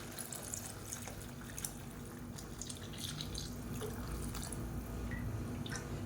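A dissolved tamarind mixture is poured into a pan of tomato-based kuzhambu curry, a soft, continuous liquid splash and trickle heard faintly and close, without talk.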